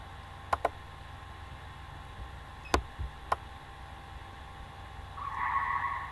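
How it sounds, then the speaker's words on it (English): Skidding tires in a typing video game's car race: a few sharp, brief squeals and clicks spaced over a steady low hum, with a rising tonal whine near the end. "This is a car race."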